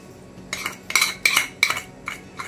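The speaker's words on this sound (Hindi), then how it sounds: "अब इसमें मिलाएंगे हम घी" A metal spoon scrapes and clinks against a pan while ghee is mixed into a dish, making about six distinct stirring strokes in an uneven rhythm. The sounds are close and clear, and no one speaks.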